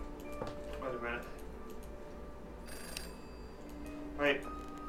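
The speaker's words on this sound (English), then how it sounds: "I heard that phone ring." A telephone rings faintly in the video game Bad Dream: Coma, short electronic trills spaced across a few seconds against quiet ambience, with a few brief clicks.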